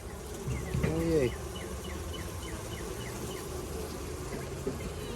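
Honey bees buzz steadily around a farm hive, a faint continuous drone with a brief louder hum from a nearby bee early on.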